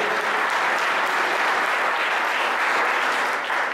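Dense, sustained applause from a large church congregation, a steady wash of clapping that stays loud and even throughout.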